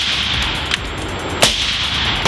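Suppressed Bushmaster ACR rifle fired at an indoor range, with two sharp, fairly loud cracks about 0.7 seconds apart over steady room ventilation noise, no talking.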